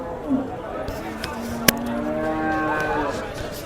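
A cow lets out a long, drawn-out moo close by at a large cattle and buffalo market in Dabwali, rising over a busy background of livestock and faint clatter.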